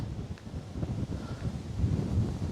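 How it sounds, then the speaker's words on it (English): Wind gusting across a microphone on a hiking trail near a reserve and lake, a low rumbling buffet that swells and dips irregularly, close and steady, with no speech. "it's a lot of wind up here"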